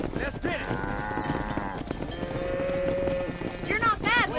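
A cattle herd lows repeatedly in the western game Red Dead Redemption, several drawn-out moos near and far over hoofbeats and ambient noise, with a voice talking across the herd.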